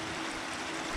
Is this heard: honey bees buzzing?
no